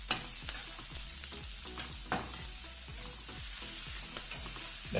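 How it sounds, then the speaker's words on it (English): Garlic and onions sauté over hot oil in a pan with shrimp, sizzling steadily throughout as a utensil scrapes and stirs in a regular rhythm of soft strokes, close and fairly loud with no talking. "Then add garlic and onions. Saute that a bit."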